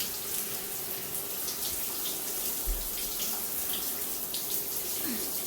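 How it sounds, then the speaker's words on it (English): Tap water runs steadily from a faucet while hair is rinsed on a natural-hair wash day, a constant close hiss and splash with no talking. "Put your hair under the water."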